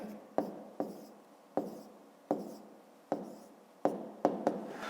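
Handwriting numbers, likely with a pen on paper, in eight sharp separate strokes spaced irregularly across the stretch. Each stroke is close and clear and fades fast into quiet scratching, with no talk over it.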